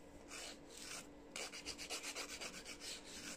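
A nail file rasps back and forth across fingernails being shaped, a soft scratchy rubbing in a short pause and then a run of about a dozen quicker strokes, close up with no talking.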